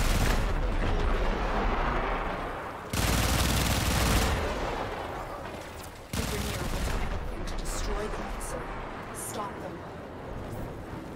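Sustained heavy gunfire in the Warframe video game, with dense bursts that cut in and out sharply over several seconds and blasts and mechanical noise layered on top. A voice talks over the firing.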